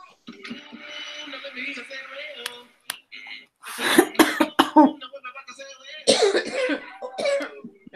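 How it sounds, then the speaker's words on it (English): Several harsh coughs come in bursts, close and loud, with a voice talking before and between them. "We're all coughing together"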